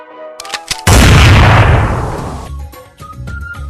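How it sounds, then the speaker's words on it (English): A coordinator's flare gun goes off in the Identity V video game: a sudden loud burst after a few brief clicks, its roar and hiss trailing away over about a second and a half, followed by lighter game sounds. "unleash the coordinator's flare gun and behold their transformation from BFF to a vengeful spirit"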